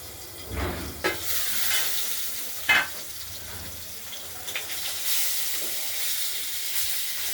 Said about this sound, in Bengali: মাছগুলো ভাজা হচ্ছে যেহেতু হতে থাকুক ঢাকা দিয়ে রেখেছি